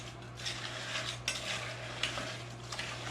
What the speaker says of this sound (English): And so I'll just stir it.